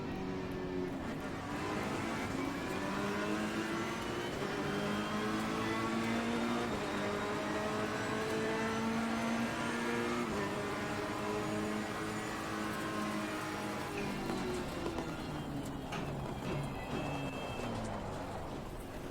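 Ferrari race car in Assetto Corsa Competizione at the Hungaroring, its engine droning steadily with rising and falling harmonic sweeps as it accelerates and shifts, loud and continuous throughout with no talk.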